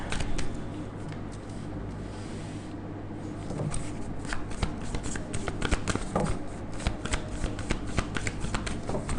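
Tarot cards shuffled by hand in a steady run of crisp riffles and soft flicking slaps, close and continuous throughout, with no talking.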